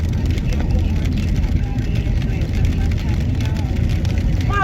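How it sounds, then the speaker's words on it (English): A car does burnouts in the snow outdoors after a snowstorm, its engine roaring and revving continuously at close range while people talk over it. "your son out here doing burnouts in the fucking snow"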